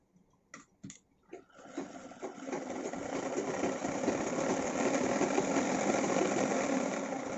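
Sewing machine stitching a chudi pant, starting with a few short separate bursts before settling into a steady, continuous mechanical whir for several seconds, close and moderately loud with no talk.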